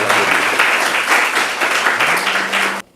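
An audience applauds an eminent professor at the opening of a final-year STEG review session, steady dense clapping filling the room for nearly three seconds before cutting off abruptly.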